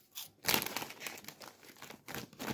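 A Lulu Puffs snack bag crinkles and crackles up close in several bursts of crisp plastic rustling, loud near the start and again toward the end.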